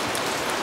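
Steady rain pouring down outdoors in Cần Thơ, Hậu Giang, a dense even hiss that fills a short moment with no break.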